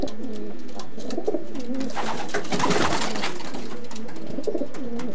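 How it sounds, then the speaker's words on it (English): Racing pigeons in a Doncaster loft coo in soft, repeated throaty phrases, with a burst of broad rustling or wing noise midway before the cooing resumes; no one speaks. "What families of pigeons you keep in, Ray?"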